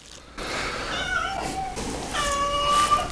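A pet cat named Lando meows repeatedly indoors, close and fairly loud, with several drawn-out, wavering cries over about three seconds.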